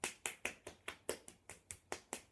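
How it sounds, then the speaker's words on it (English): Hands clap steadily during a foot yoga session, about a dozen crisp, close claps in an even quick rhythm, with no talking. "And then we'll clap"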